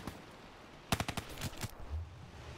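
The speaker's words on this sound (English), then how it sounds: "And we're getting shot in the back." Bursts of video game gunfire strike the player from behind: a quick cluster of sharp, loud shots lasting under a second, followed by a few scattered hits and a low thump, with no talk.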